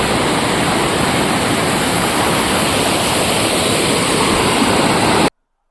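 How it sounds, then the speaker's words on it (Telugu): Amrutha waterfall in the Maredumilli forest roars steadily at close range, a loud, unbroken rush of falling water that lasts about five seconds before cutting off abruptly to silence. "వాటర్ ఫాల్స్ ఎలా ఉందో ఇప్పుడు చూడండి."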